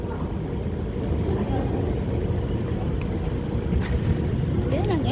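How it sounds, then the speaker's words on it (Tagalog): An MRT train pulls into a station in Singapore: a steady low rumble and rush of the arriving train builds throughout, with faint background voices and some wind noise. "At parating na yata yung MRT."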